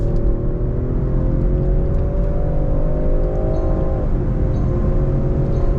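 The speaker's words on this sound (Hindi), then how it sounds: "हाईवे पे मैं हूँ, मैंने हार्ड एक्सेलरेट किया एकदम से" A new Range Rover Sport engine pulls hard under heavy acceleration on a highway. The loud, steady drone climbs in pitch, then dips briefly as if shifting, heard alone without speech.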